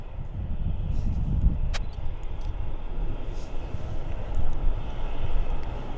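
WestJet 713 at Vancouver Airport, a distant jet rumble mixed with wind and outdoor background noise at sunset, steady and moderately loud with no voices.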